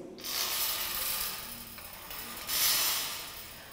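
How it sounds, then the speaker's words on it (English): A homemade guiro made from springs is scraped, giving long raspy ratcheting strokes. The sound is close and continuous, rises and falls in two main passes, and plays alone. "We've also got a guiro that we've made out of springs"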